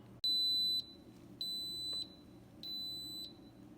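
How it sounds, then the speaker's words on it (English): Three sustained electronic beeps from an Instant Pot pressure cooker signalling cooking is done, each lasting about half a second to a second, evenly spaced with pauses between, over a faint background hum. "The beeping tells me that my cooking is done"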